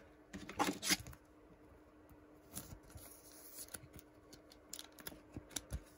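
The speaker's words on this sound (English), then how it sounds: "We're going to sleeve him up." A baseball card from a 2024 Topps Series 1 jumbo pack slides into a plastic sleeve with soft crinkly rustles and brief scrapes, a louder flurry near the start and then scattered light taps and rubs, close and quiet.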